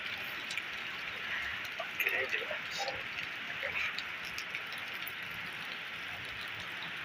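Rain falls steadily in Malaysia, heard from inside a room as a continuous hiss with faint patter that holds at an even level throughout.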